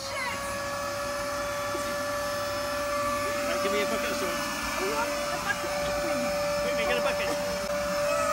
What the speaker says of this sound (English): it's like when you get the hoover going and then it suddenly goes and you know that something's stuck